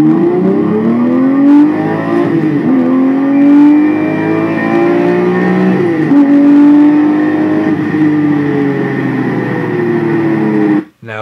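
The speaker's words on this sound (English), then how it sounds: "an ordinary V6 car like a Toyota Camry, and you put a special exhaust in it" A V6 car engine, like a Toyota Camry's, with a loud, raspy aftermarket exhaust revs up and down several times, close and prominent, then cuts off abruptly.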